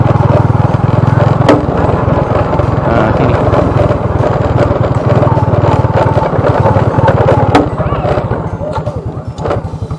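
A small motorcycle engine idles near and loud beside a fish-trap spot, a steady low chugging throb running throughout with a couple of sharp clicks, easing slightly toward the end.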